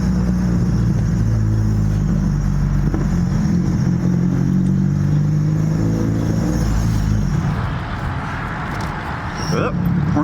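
A Chevy Cruze engine idles roughly with a loud, steady low rumble and uneven pulsing, close up, with a person talking over it near the end.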